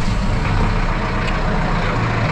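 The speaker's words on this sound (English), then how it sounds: "I'm gonna crank the tractor up" A tractor engine running steadily after being cranked up to warm up on a muddy farm, a loud, close, continuous rumbling drone with no talk.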